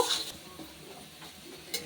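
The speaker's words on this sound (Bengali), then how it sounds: "পেঁয়াজটা একটু লাল লাল করে ভেজে নেব" Quiet sizzling of onions browning in a pan, with a few scraping stirs and a sharp clink near the start and end; no talking.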